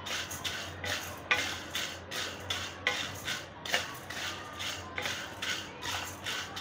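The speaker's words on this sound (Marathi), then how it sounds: "खरपूस अशी भाजून घ्यायची" Chana dal is dry-roasted in a pan while a spoon stirs it, giving a rhythmic scraping and rustling of grains against the metal. It sounds fairly soft and close, with no one speaking.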